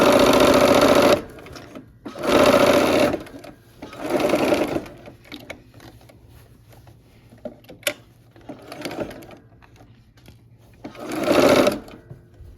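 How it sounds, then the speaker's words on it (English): A sewing machine joins quilt rows with sashing strips in five separate loud, buzzing bursts of rapid stitching, with quiet pauses between runs and faint handling sounds in the gaps. "I am going to sew now 2 rows with their sashing strips together"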